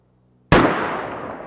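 A single loud close gunshot from a .500 S&W Magnum pistol loaded with Alliant 2400 powder, fired outdoors at a wooden 4x4 post, a sharp crack after silence followed by a long decaying rumble.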